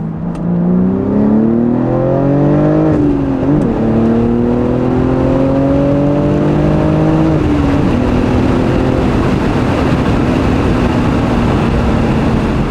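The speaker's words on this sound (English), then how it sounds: "Second gear, doing a second gear pull." A BMW G80 M3 or G82 M4 with the S58 engine and an aftermarket exhaust pulls hard in second gear, its loud, droning engine note climbing in pitch, dipping at shifts and then fading back toward a steady rumble.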